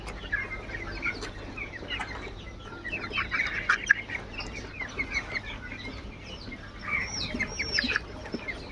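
Layer hens cluck and chatter throughout on a poultry farm on a cloudy afternoon, many birds overlapping at moderate distance with scattered sharper calls over a low background hum.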